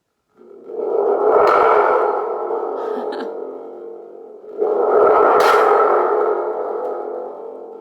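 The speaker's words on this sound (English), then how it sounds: "it's just a drum with a spring sticking out of it" Two long, echoing metallic rumbles from a thunder tube, a drum with a spring attached, with a springy, reverberant wash, each swelling in and fading slowly, heard alone.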